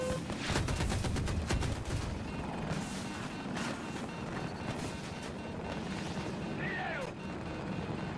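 Rapid attack-helicopter cannon fire in Battlefield 2042, heard as dense bursts of gunshots and booms over a continuous rumbling battlefield, with brief voice chatter mixed in.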